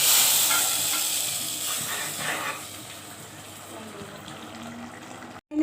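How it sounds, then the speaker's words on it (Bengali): Hot oil tempering poured over a lentil and watermelon rind dish sizzles loudly at once, a dense close hiss that slowly fades to a steady quieter fizz. "এই যে আমার তেলানিটা হয়ে গেছে, এখন আমি এখানে ঢেলে দিব।"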